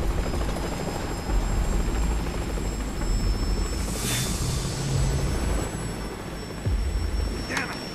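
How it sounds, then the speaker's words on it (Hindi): Helicopter in the video game Metal Gear Solid 5 Phantom Pain, a steady loud rotor and engine roar filling the scene throughout, with brief whooshing sweeps over the constant drone. "हेलीकॉप्टर,"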